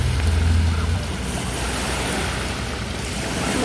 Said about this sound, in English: the sound of the water kinda puts her down to sleep